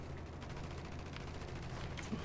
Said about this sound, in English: The Sicarios are shooting the hell out of this emitter.